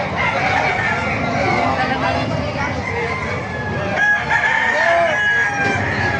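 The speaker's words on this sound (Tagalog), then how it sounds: "papakita ko sa inyo yung mga manok dito sa Bukawi" Many chickens and roosters crow and cluck together in a loud, busy chorus at a market in Bocaue, with a voice and general babble mixed in beneath the birds.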